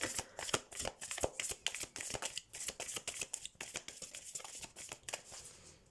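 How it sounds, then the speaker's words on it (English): A Moonology tarot card deck being shuffled by hand, a quick run of crisp riffling flicks and card slaps in close, steady bursts, with no talking. "Let me get a card from the Moonology deck."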